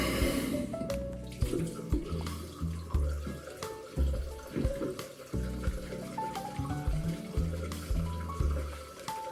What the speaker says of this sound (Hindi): मुंह धोकर अब हम निकले जिम पर